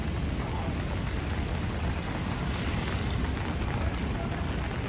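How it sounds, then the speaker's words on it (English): Heavy rain pours onto a New York City street, a dense, steady hiss of water with no break, close and loud. "So when it rains in New York, look at the river that flows all the way down the street."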